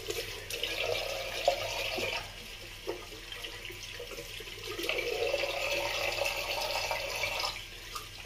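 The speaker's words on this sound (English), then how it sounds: "Right, we'll rinse." Tap water runs steadily into a sink to rinse after a shave with preshave soap, a continuous close splashing flow with small shifts in tone and no talking.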